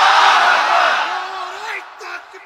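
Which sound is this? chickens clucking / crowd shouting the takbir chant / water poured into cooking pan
crowd shouting the takbir chant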